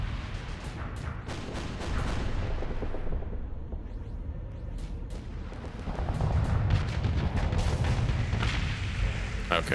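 Missile explosions in a video game: a dense, continuous roar of booms and blasts, loud and sustained, rising again toward the end.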